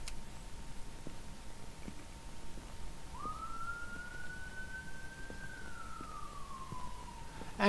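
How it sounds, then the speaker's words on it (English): A single police siren in the video game Phasmophobia rises and slowly wails downward, faint and somewhat distant, over a low steady background hum. "And there's the sirens."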